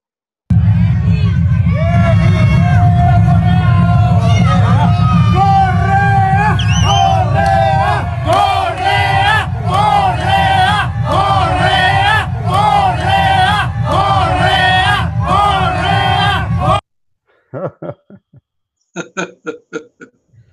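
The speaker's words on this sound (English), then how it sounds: "So this is the crowd chanting." Large crowd at a political rally in Ecuador chanting in loud rhythmic unison for about seventeen seconds, voices rising and falling in repeated phrases, then cutting out to a few brief scattered shouts.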